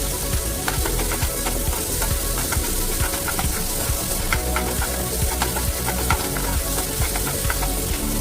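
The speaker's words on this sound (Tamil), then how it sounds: "ரெண்டு வெங்காயம் பொடியாக நறுக்குனது போட்டு நல்லா வதக்கணும்." Chopped onions sauté in hot oil in a kadai, a loud close sizzle with frequent clatter of stirring running steadily throughout.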